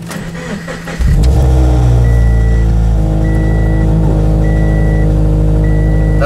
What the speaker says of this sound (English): That's my new exhaust, it's pretty loud.